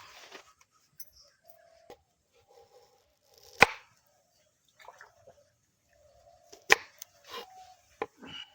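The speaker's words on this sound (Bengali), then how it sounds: "আচ্ছা তো চলো পেঁয়াজটা তাড়াতাড়ি কুচিয়ে নাও।" Onion being chopped with a knife in a home kitchen, sparse irregular knife strikes on a board, quiet and close, with a few sharper louder hits and small soft sounds between.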